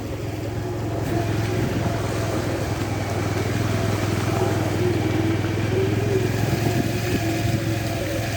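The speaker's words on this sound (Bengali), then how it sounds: "পানির মধ্যে দিয়ে মোটরসাইকেল নিয়ে যাচ্ছি" A motorcycle engine drones steadily and close, with a continuous churning rumble and splashy clatter as it rides through floodwater on a village road in Sylhet without pause.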